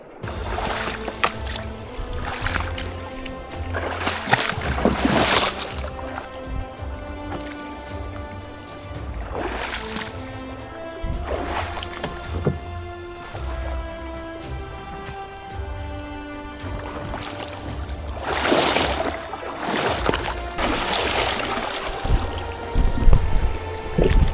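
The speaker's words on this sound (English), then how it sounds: "Paddle hard, paddle hard." A canoe is paddled hard through water on a wilderness trip in Wabakimi, with repeated splashing strokes and sloshing, close and fairly loud, over a steady watery background with faint voices.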